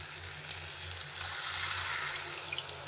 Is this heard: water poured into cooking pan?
yes